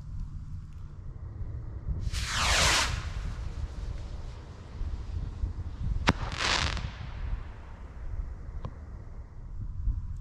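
A Phantom Aces High firework missile launches outdoors with two loud, rising whooshing hisses, each a couple of seconds apart, along with sharp pops and steady wind noise in the background.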